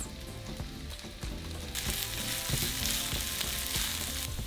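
Chopped onion hitting hot oil in a pan and frying, a close crackling sizzle that jumps louder partway through and then holds steady, with no talking.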